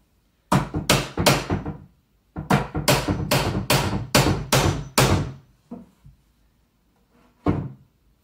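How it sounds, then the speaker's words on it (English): Repeated sharp hammer taps on a metal putty knife wedged under a dresser part, coming in quick bursts of several strikes with short pauses between, close and loud. "take the hammer and gently try and put it underneath it"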